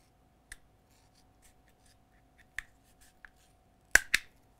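Scissors cutting material for a DIY Star Wars lightsaber collar in a workshop, a few sparse, crisp snips spaced unevenly, quiet and close, ending with two louder cuts in quick succession.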